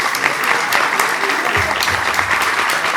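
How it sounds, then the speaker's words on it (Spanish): A panel audience breaks into loud, sustained applause for a speaker at a democracy event, many hands clapping densely and evenly from start to finish. "Así que un fuerte aplauso a Gisela Marciota."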